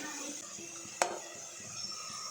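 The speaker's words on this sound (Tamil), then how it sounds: "இந்த பேஸ்ட்டு ஒரு 5 மினிட்ஸ் அளவுக்கு நல்லா வதங்கட்டும்." Masala paste sautéing in a pan for a mushroom gravy, heard as a low, steady background hiss with soft stirring scrapes and one sharp utensil clink against the pan partway through.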